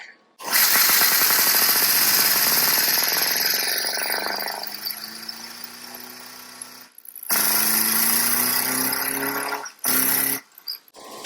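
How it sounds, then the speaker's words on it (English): A big air compressor starts up and runs loud and close, its motor and pump pounding as it builds pressure, then cuts out and restarts in short bursts with brief silent gaps. "Big old air compressor, it's not on all the time, so I'm going to build up some pressure here."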